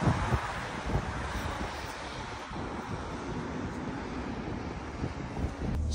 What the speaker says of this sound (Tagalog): Ang lakas ng hangin tsaka yung snow.